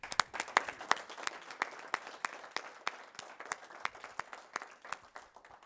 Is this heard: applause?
yes